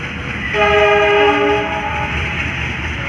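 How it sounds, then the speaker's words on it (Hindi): A train horn sounds a long sustained chord over the steady rumble of the running locomotive of the Yognagari Rishikesh train to Haridwar, loud and nearby, then fades back to the engine drone. "आपको लोकोमोटिव की भी आवाज़ आ रही होगी"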